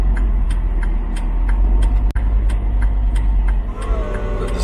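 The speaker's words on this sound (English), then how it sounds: "If you're going all the way round, as I am, you put your right-hand indicator on." A car's turn indicator ticks in a steady, evenly spaced rhythm at a roundabout, faint but distinct over a loud low hum of engine and road noise inside the cabin.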